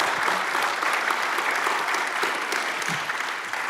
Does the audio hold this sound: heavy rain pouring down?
no